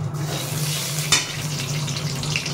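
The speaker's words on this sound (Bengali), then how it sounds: "যে ভালো করে তেলে ভালো করে নেড়ে নিতে হবে বন্ধুরা, জানেন, ভালো করে নেড়ে নিতে হবে যাতে ভালো করে এটা মেল্ট হয়ে যায়" Salt being stirred into hot ghee in a pan while cooking veg fried rice, a steady close sizzle with a low hum underneath and one brief scrape of the spoon partway through.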